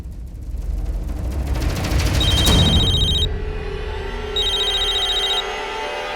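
A mobile phone rings with repeated electronic ring tones in two bursts, loud over a dense, rumbling background with no speech.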